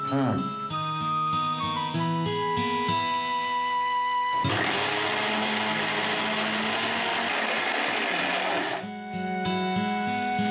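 A mixer grinder grinds coarse vada batter for mullu murungai vada with a loud, steady whir lasting several seconds, starting and stopping abruptly, with speech before and after.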